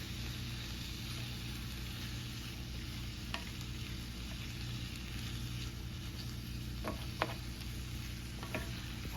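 Onions, tomatoes and carrots for nacho topping hiss steadily in a pan as a utensil stirs them. A dense, even sizzle runs throughout, with a few sharp clicks near the end and no speech.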